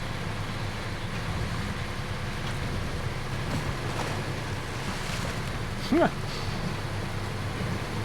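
Boat splashing and churning through water in the SnowRunner off-road driving game on the Michigan map, a constant low wash of water and engine rumble with a brief sharp chirp partway through.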